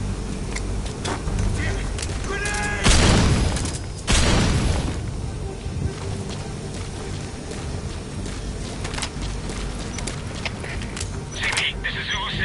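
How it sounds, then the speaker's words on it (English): A sudden loud blast in the stealth video game Metal Gear Solid V bursts out of steady background noise, followed by a second, rumbling burst about a second later before the scene settles back to a low ambient hum. "Heard an explosion."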